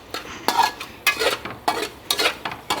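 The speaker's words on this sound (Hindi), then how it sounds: "अब हम इसे अच्छी तरीके से मिक्स कर लेंगे और आलूओं को थोड़ा भून लेंगे" Diced potatoes are stirred and fried with spices in a pot for potato pulao, with a spoon scraping and knocking against the metal in a regular rhythm over a light sizzle and no talking.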